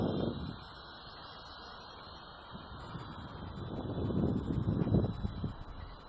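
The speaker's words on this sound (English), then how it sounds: "as you can see, but lots of wind." Strong gusts buffet the microphone outdoors on a sunny day while a small HobbyKing mini B-17 radio-controlled plane flies. The rumbling wind rises and falls, stronger toward the end, with a faint high electronic whine running throughout.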